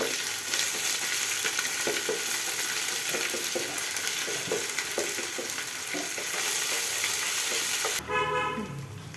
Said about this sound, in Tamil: நல்லா இஞ்சி பூண்டு பேஸ்ட்டு பச்சை வாடை போகிற அளவுக்கு ஃப்ரை பண்ணணும்